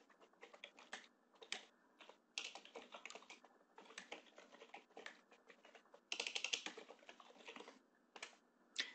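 Steady typing on a computer keyboard, bursts of quick key clicks with short pauses between them, close and fairly quiet.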